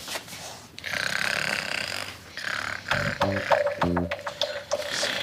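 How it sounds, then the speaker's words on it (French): A woman snoring in a domestic comedy scene, giving a few rough, rhythmic snorts that grow louder toward the end over a noisy room background. "Même que dans 2 secondes, elle devrait se mettre à ronfler."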